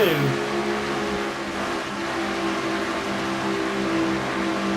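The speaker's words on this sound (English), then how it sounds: "On board Dylan Young's car, number 2." Onboard engine of the number 2 car in a stock car racing video game series, a sustained loud drone at steady high revs that holds for the whole stretch with no talk over it.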